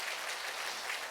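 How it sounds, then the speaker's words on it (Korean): A church congregation applauds to welcome a pastor at a healing service, a brief, even burst of many hands clapping in a large room. "박수로서 우리 환영해 주세요."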